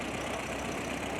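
An early Case tractor engine running on kerosene at a steam show in Sycamore, Illinois, giving a steady, dense, continuous engine roar close by with no talking over it.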